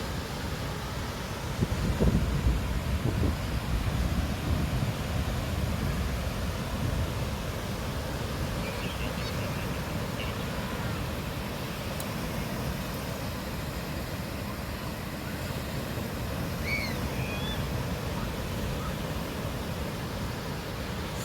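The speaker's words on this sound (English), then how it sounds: "Some pretty spectacular waves today as well." Ocean surf at Vilano Beach, Florida, rolls in as a broad continuous wash of breaking waves, steady and moderately loud, with wind buffeting the microphone near the start.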